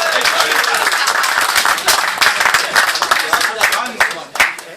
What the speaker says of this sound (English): a big round of applause for And